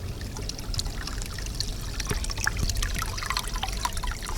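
Water from a roadside tap fills buckets with a steady, continuous trickling pour, fairly close and moderate in level, with no talking.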